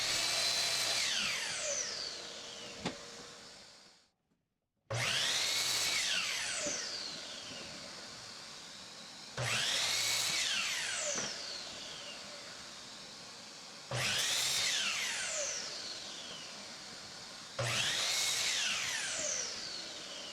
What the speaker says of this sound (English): On the miter saw for the legs, at 14 inches each, do 8 degrees parallel cut to cut without flipping the boards over.